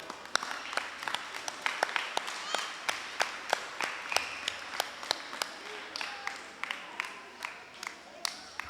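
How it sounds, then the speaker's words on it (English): Scattered claps building into a round of applause from a crowd at the Yap Canoe Festival for canoe race winners, with distinct sharp individual claps standing out over a softer wash of clapping and some crowd noise. "Give them a round of applause."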